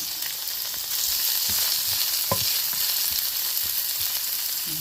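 Onions sizzle steadily in hot oil in a pan, a bright continuous frying hiss with a few soft clicks and scrapes of stirring, close and fairly loud throughout.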